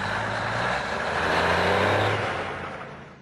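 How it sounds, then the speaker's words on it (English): A 30-ton truck rumbles past, its engine droning loudly and steadily before fading away at the end. "This is what a 30-ton truck sounds like to a toddler."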